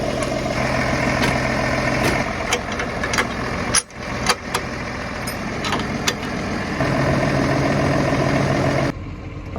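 A farm tractor idles with a steady, loud engine rumble, near the listener, broken by a few sharp clanks and knocks of equipment before the engine note shifts slightly near the end.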